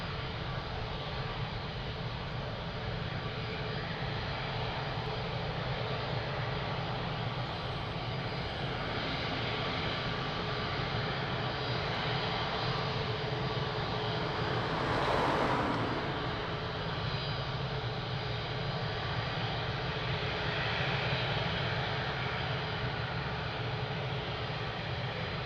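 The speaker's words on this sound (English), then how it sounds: "Beautiful ATR 72" A Swift Air ATR 72 turboprop at Lisbon Airport produces a sustained engine drone with a steady hum, swelling slightly as it passes near the middle.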